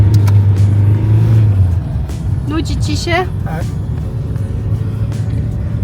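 A car driving on a snowy winter road, with a steady low engine rumble and road noise throughout, heavier at first, under brief casual talk between people inside.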